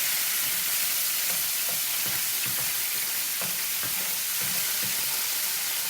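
Capers and garlic sauce fry in very hot oil, giving a steady, dense sizzle with scattered pops and spatters, close and continuous throughout.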